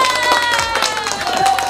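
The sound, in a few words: played applause sound effect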